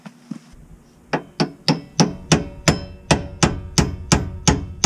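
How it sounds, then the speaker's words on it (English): Metal hammer blows driving a 2003-2008 Honda Pilot rear axle into place, about a dozen sharp ringing strikes in a steady even rhythm, loud and close, with no talking. "Hammer it in all the way."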